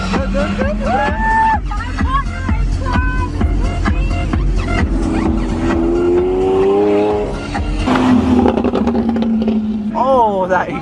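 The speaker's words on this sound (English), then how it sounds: "Oh, that exhaust." Powerful Lamborghini engines rev and roar nearby at a large Lamborghini event in Dubai, pitch rising and falling through several pulls, with crowd chatter and tire squeals mixed in.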